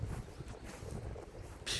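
Wind blows steadily through a forest on a walking route, a dense broadband rush with low rumbling buffets on the microphone, swelling sharply louder near the end.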